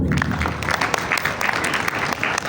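A class of students claps together after a coding lesson on frontend topics, a dense steady patter of many hands filling the room, close and continuous.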